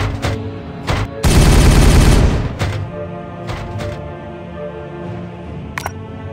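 Heavy gunfire from the Warhammer 40K Regicide video game: a dense, loud burst of rapid shots lasting about a second, with scattered single reports and sharp impacts before and after.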